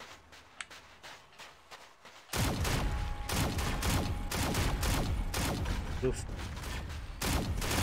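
After a quiet start, loud shotgun blasts and rapid weapon fire from a Shadowgun Legends 1v1 duel break out, with repeated sharp shots and mechanical clatter, while a player exclaims briefly.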